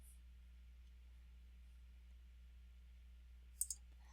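Computer mouse button clicked twice in quick succession near the end, crisp and close, after a stretch of quiet low hum.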